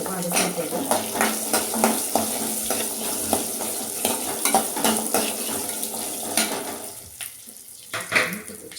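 Small shallots, 100 grams of them, sizzle in a pan and get stirred with a utensil that scrapes and clinks repeatedly, close and busy throughout, while a voice speaks over the frying.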